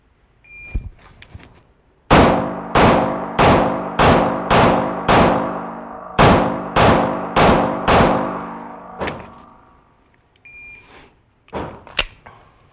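Pistol gunshots fired during a timed shooting drill on a cold day: a start tone, then about ten sharp, loud reports in a fast, even string, followed by a few more scattered shots.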